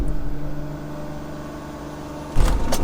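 A 700hp single-turbo BMW wagon launching on launch control without traction: a steady deep engine drone holds at first, then a sudden louder surge of revving near the end.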